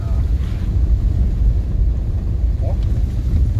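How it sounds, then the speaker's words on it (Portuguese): Strong wind buffets the microphone outdoors on a hunting trip, making a dense, unbroken low roar that fills the whole stretch. "Tá ventando demais, muito ruim de filmar"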